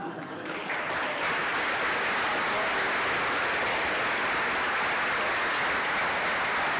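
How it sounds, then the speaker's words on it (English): Audience applause following a reading of Agamemnon, a dense, steady clapping that holds loud and even throughout with no pauses. "Good clapping."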